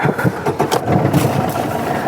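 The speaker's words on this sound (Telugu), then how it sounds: "రండి ఒకసారి స్టార్ట్ చేస్తాను బండి కూడా చూసుకోండి ఇంజన్ సైడ్ కూడా" A Maruti Swift Dzire diesel car with about 90,000 km on it cranks and fires up close by. A short starter whir rolls straight into a rough, steady diesel clatter.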